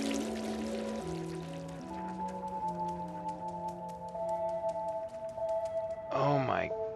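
Water pours steadily through the sewers in the video game Stray, a soft continuous rush beneath layered sustained game music, ending with a brief wavering cry-like sound.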